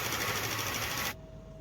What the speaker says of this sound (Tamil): இந்த எலக்ட்ரிக் எக் பீட்டரில் நல்லா அந்த எக் பீட் பண்ணிக்கோங்க.